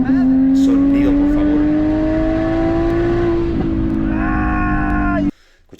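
A BMW engine revving hard, a loud steady harmonic roar that climbs slightly in pitch, with a second rev near the end before it cuts off sharply.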